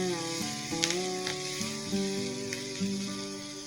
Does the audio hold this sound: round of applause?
no